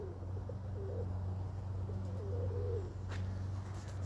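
Soft, low pigeon coos repeat in a steady murmur over a constant low hum, close by and fairly quiet.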